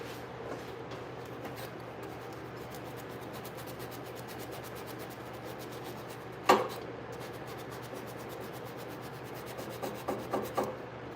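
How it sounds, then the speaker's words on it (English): Steady dry rubbing and rasping, like sandpaper worked over wood, runs quietly for about eleven seconds, broken by one sharp knock midway and a few small clicks near the end. "I gotta sand this down real quick"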